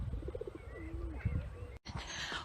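Pigeons coo in a park, soft repeated throaty calls mixed with other bird chirps over low outdoor rumble, fairly close, with a brief dropout near the end.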